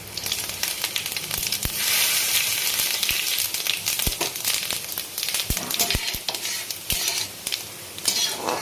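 Dry red chillies, bay leaf, cinnamon and cardamom frying in hot oil for a soybean Mughlai curry, a steady loud sizzle with sharp spoon clicks and scrapes against the pan throughout.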